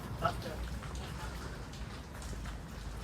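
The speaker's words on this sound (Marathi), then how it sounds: "पाऊस जरा कमी झाला आहे" Light, steady rain patters on surfaces in a continuous soft hiss in the Konkan region at Kolad, with faint voices in the background.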